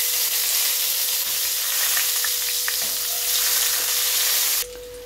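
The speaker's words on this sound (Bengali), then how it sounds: "আলুটাকে নাড়াচাড়া করে সাইড করে দিলাম আমি।" Boiled potatoes frying in hot oil with bay leaf, dry red chili and fenugreek, a steady close sizzle running throughout with a few light clinks of stirring, the hiss dropping off sharply near the end.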